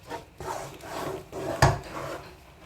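Semolina gulab jamun dough being stirred in a pan, with soft continuous scraping and rubbing of a spoon through thick dough, close by, plus one sharper knock against the pan near the end.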